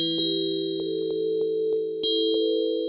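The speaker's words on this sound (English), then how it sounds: "we're starting to achieve a tinkly bell type of sound." A high tinkly bell tone from an FM synthesizer rings out in a quick series of short, evenly spaced struck notes, clean and isolated, with the pitch shifting partway through.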